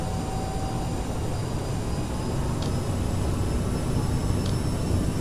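A regional airliner in Microsoft Flight Simulator 2020 takes off: a steady, broad engine roar holds at a loud, even level throughout, with a faint high whine riding on top and no talk.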